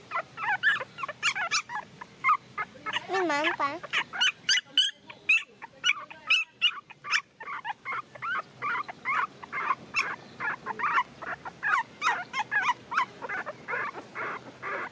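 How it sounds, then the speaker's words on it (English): Five newborn puppies whimper and yip in a continuous stream of high, quavering cries, close and fairly loud, while a person speaks briefly in the middle. "Baby dog is like that."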